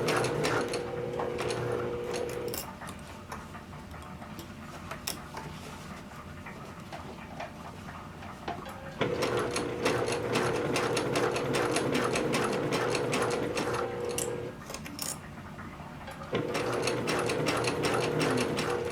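A sewing machine stitches over a dart on a pair of pants, its motor whirring in long continuous runs with brief dips in pace, a close, steady mechanical hum and needle clatter, with no voices.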